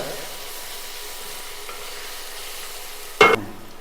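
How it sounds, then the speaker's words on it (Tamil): Masala sautéing in a pan for turkey berry and lentil kootu gives a steady, soft frying hiss throughout, broken near the end by one brief, louder scrape of a stirring spoon; no voices are heard. "மசாலா சேர்த்து நல்லா ஒரு ரெண்டு நிமிஷம் நல்லா வதக்கிட்டேன்"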